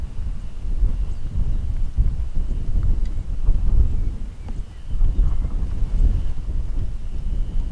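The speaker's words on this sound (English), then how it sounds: "the wind creates quite a lot of noise" Strong wind buffeting an outdoor microphone on a safari drive in the African bush, a loud continuous low roar swelling and easing in gusts with a faint steady hum behind it.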